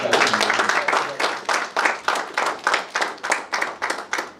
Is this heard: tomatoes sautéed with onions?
no